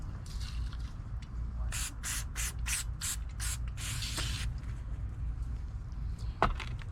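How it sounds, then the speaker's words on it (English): Brake cleaner sprayed onto a part from a Mercury SportJet fuel pump: a run of about seven short, hissing squirts in quick succession, close and fairly loud over a low background rumble, followed by a single sharp knock. "Some brake cleaner."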